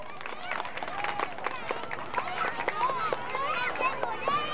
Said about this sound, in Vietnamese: Đề nghị quý vị cho một tràng vỗ tay thật lớn hơn nữa